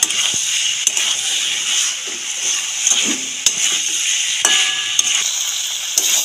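Fried potatoes and jackfruit being sautéed with spices in a pan for a prawn dish, a continuous close sizzle broken by sharp spatula scrapes and clinks against the pan.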